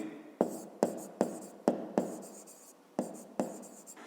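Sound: writing the solution step

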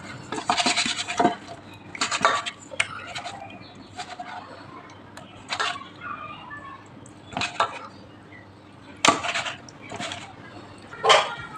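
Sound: mixing fish with salt, turmeric and mustard oil by hand

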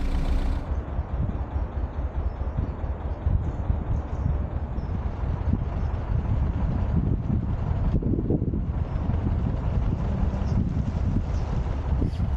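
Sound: strong wind blowing on a canal

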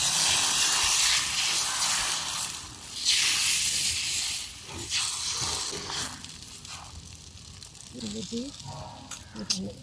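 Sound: steam hissing from cooking pot

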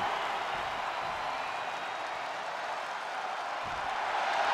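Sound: arena crowd cheering in video game WWE 2K23

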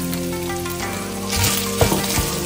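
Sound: red beans, sweet corn and bell peppers frying with mince

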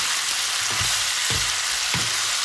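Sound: stir-frying minced pork with spring onions in a pan

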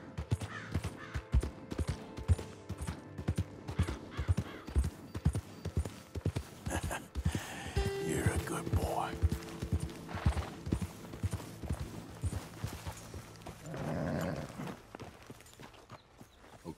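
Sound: horse hooves clip-clop in video game

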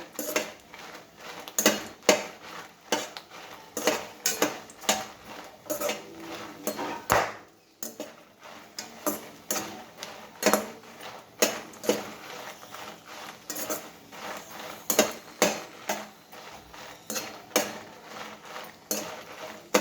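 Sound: stirring and frying mint leaves in a pan

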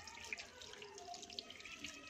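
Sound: water running from bathroom sink tap

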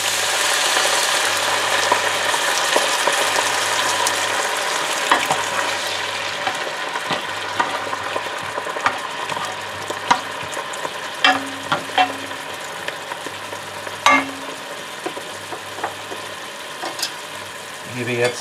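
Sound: tomato paste sizzling as pan is deglazed with stock

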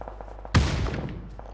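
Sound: grenade explosion from the video game PUBG

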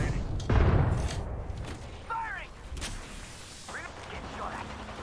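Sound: grenade explosion in the video game Apex Legends

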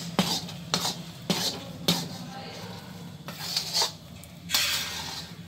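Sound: stirring fresh coconut and milk mixture in a pan

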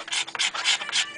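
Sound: metal working file shaping a wooden guitar neck

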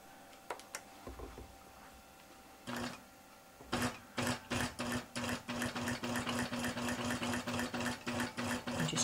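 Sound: sewing machine stitching an applique

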